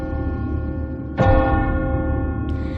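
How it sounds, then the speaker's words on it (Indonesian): Church bell in an animated donghua series, a sustained ringing tone with rich overtones over a low rumble, struck again at about one second and once more softly near the end, resonant and loud. "Lonceng tetap berbunyi pertanda akan hadir iblis yang sangat kuat."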